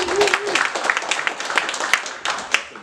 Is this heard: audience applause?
yes